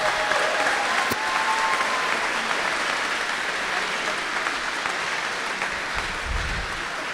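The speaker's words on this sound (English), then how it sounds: "Give them a round of applause if you don't mind." Dense, steady audience applause fills a school concert hall after a high school concert band's spring performance, loud and continuous for the whole stretch with only slight easing toward the end.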